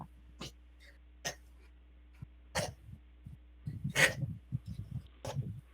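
A sick dog close to the mic sneezes and snorts in a run of sharp bursts, about five spread over several seconds, with wet snuffling between them and faint talk in the background.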